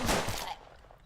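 Three fanned revolver shots in the video game Hard West fire in a rapid, close cluster of loud cracks within half a second, then a short decaying tail of echo.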